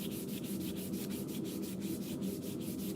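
A small belt sander running steadily in a blacksmith shop, its abrasive belt giving a constant close rubbing hiss with a faint regular flutter throughout.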